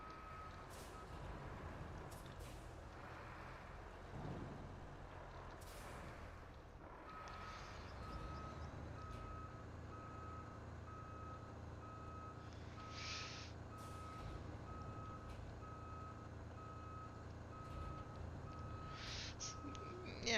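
A concrete-laden truck in the Road Craft game reverses steadily, its engine droning low under a repeating backup beeper, with occasional hissing air-brake bursts; continuous and moderately loud throughout.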